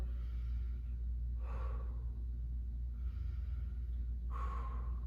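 A person doing a side plank during a workout takes forceful exhales through the mouth, two audible breaths spaced a few seconds apart over a constant low background hum.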